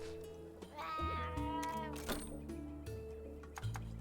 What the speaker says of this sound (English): That was the cat.